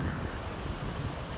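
Steady, blustery wind rumbling across the microphone with a broad roar, like open air by the sea, constant and fairly loud throughout, near London Bridge Underground station.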